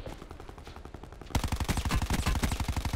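Rapid gunfire rattles through a video game shootout, quieter bursts at first, then loud, close automatic fire in a fast, steady rhythm.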